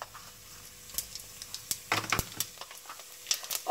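Cumin seeds dropped into hot mustard oil, crackling and popping in faint, scattered bursts with short sharp sizzles.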